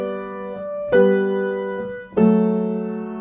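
Piano plays a song with every note landing squarely on the beat, a few struck chords and single notes ringing out clearly, close and unaccompanied.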